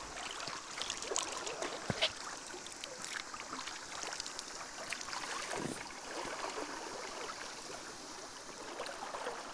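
River water streams and trickles steadily beside a kayak on the Koyva river during a rapids stretch, a continuous broad wash with a few brief louder splashes, no talk.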